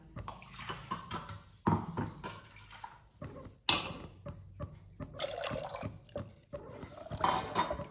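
Water, including rinse water from a mixer jar, sloshes and splashes into a cooking pot of chickpea gravy in uneven pours and trickles, close by with some clinking, and no voices.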